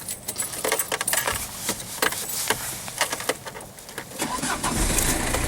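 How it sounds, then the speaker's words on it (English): A Citroën BX with hydropneumatic suspension is started: keys jangle and click, the starter cranks, and the engine catches and settles into a steady close running note by the end. "let's start the car up so you can hear it starts up alright"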